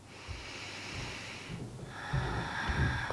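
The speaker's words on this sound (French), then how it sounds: "prends 3 profondes respirations de plus ici" Deep, slow breathing through the nose during a beginner morning yoga stretch for back pain, a few soft inhales and exhales close to the microphone, quiet and airy.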